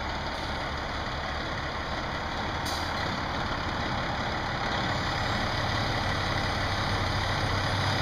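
Fire engine idling steadily close by while its pump is put into gear, a constant low diesel rumble with a brief click partway through and no talk.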